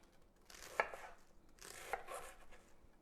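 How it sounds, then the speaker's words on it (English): Knife slicing red cabbage and other cruciferous vegetables on a board: two bursts of crisp, close chopping strokes, each with a sharp blade tap, in an otherwise quiet kitchen. "And I am just slicing"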